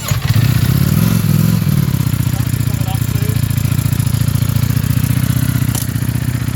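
Motorcycle on stock exhaust at a Willow Springs track day, its engine droning loud and steady at close range with a deep, rumbling tone for the whole stretch, no talk over it.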